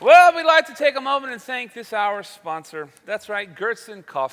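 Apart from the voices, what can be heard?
No distinct noise like a dog, phone or traffic.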